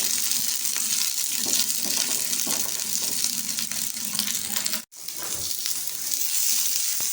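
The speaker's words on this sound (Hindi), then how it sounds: "अब मैं इसमें डालूंगी 1 अदद प्याज, जिसे मैंने क्यूब्स में काट लिया है। शिमला मिर्च डालेंगे, ये भी 1 अदद है, क्यूब्स में काट के इनको हल्का सा फ्राई कर लेंगे।" Cubed onion and capsicum frying lightly in oil, a continuous close sizzle with a brief dropout near the end, no talking.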